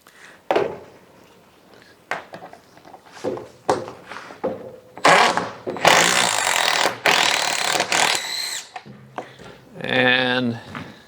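A power tool spins carriage bolts in carpet-covered plywood inside a truck, with irregular bursts of whirring and loud thunks between pauses, ending in a short buzzing grind.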